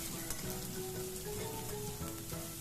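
About fifteen to twenty chopped small shallots go into hot oil in a pan for plantain puttu, giving a faint, steady crackling sizzle with a few thin tonal whines in the background.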